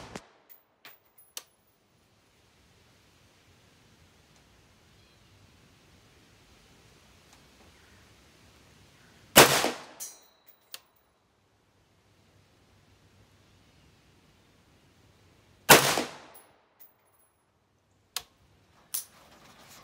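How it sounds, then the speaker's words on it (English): Two loud, sharp rifle shots several seconds apart at an outdoor bench while a Tacticon Predator red/green dot sight is zeroed, with quieter ticks and a faint hiss between them. "actually one student shooting off the bench, and then me zeroing a rifle on for sale"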